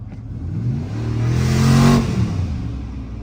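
A twin-turbo car engine revs up hard under boost, its pitch climbing with a rising turbo whoosh before easing back, loud and close with no talking.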